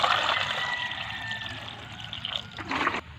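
Fresh water poured into a pot of washed sweet potatoes (kamote) being readied for cooking over a fire in a rural farm setting, a steady close splashing and trickling stream that swells briefly near the end before stopping.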